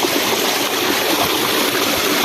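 Water gushes continuously as it overflows and floods a yard, a loud, steady rushing stream close by with no pauses and no talking.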